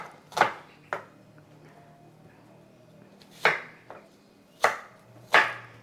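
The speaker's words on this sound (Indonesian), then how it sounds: "Pertama-tama saya potong bawang bombay." A knife chops a large onion in a home kitchen: about six sharp, separate cuts at an uneven pace, close and crisp against a quiet background.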